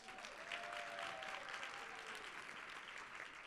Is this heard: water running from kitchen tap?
no